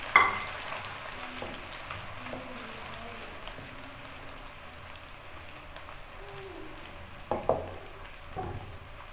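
Garlic and green cardamom fry in hot oil in a pan for chicken karahi, giving a steady soft sizzle and crackle throughout, with a few brief clinks and stirring knocks near the end and no voices.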